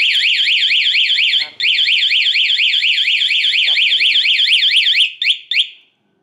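Anti-theft alarm on a Yamaha Mio motorcycle sounding a loud, rapid warbling siren that runs continuously, cuts out briefly near the start, then ends in a few short bursts.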